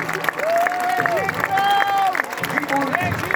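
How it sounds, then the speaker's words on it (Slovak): Crowd applause for a royal couple at a knights' parade at Červený Kameň Castle: a steady wash of clapping and crowd noise with sharp regularly spaced taps, mixed with sustained whistling tones throughout. "poprosíme veľký potlesk pre náš kráľovský pár"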